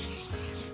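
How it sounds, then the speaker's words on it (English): Cooking spray is blasted into a parchment-lined cake pan, one loud, close hissing burst lasting almost a second before cutting off. "Just gonna spray it just to be sure."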